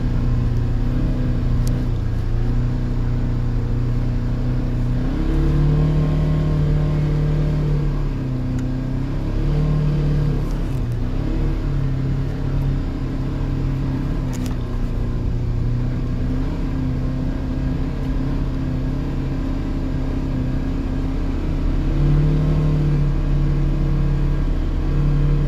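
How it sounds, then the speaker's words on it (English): A Polaris Ranger 1000XP Trail Boss side-by-side in high gear pushes 29-inch Pro Armor tires through about eight inches of snow. Its engine gives a loud, steady drone that swells slightly now and then, with no talking. "the machine has no problem whatsoever pushing these 29-inch Pro Armor tires in high gear around 8 inches of snow."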